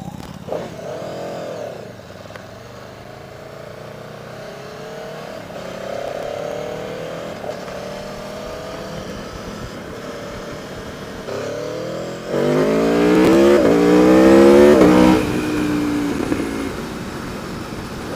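A 2019 Aprilia Tuono V4 Factory motorcycle engine revving repeatedly, rising and falling in pitch, then growing louder and rougher as it accelerates hard near the end.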